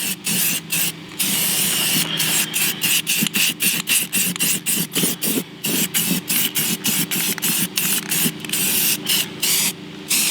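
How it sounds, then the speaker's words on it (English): An aerosol spray can coats a car wheel in paint during a respray, giving a steady run of short, close hissing bursts separated by brief pauses, with no talking. "give it a shake, and spray over the entire wheel"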